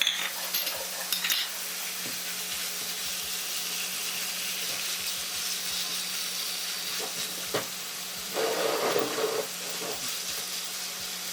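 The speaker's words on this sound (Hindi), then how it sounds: "अब थोड़ा सा इसको भूनते हैं लहसुन को।" Garlic paste sizzles in about half a cup of hot cooking oil in a home kitchen, a steady close frying hiss with occasional stirring scrapes and clinks, no voices.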